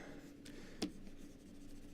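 A pen drawing plots and buildings on paper, heard as faint soft scratching and light strokes with one brief sharper tap, close and quiet with no talk.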